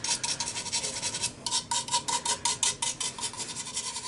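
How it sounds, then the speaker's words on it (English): A toothbrush scrubs dust out of the bark rim of a green-wood turned bowl, producing rapid rhythmic bristly rubbing strokes, close and steady, with no talk. "This is where a toothbrush comes to the rescue to remove all of that dust"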